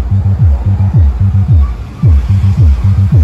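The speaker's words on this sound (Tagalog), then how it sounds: "Yan yung tunog ng ating sub" A subwoofer driven by a small integrated amplifier thumps out a repeated pulsing bass pattern, deep rhythmic booms in short groups with a slight gap midway, loud and somewhat muddy over faint hiss.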